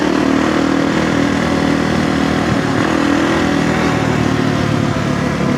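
A dirt bike engine running steadily and loudly up close, a continuous rough mid-pitched drone with no pauses and no talk.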